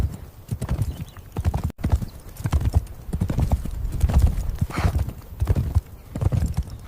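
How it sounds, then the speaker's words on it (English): Horse hooves from an AI-generated clip of a man riding, clip-clopping in a steady, close, rhythmic gait with occasional snorting, alone and with no one speaking. "Man riding a horse. Did the sound effects."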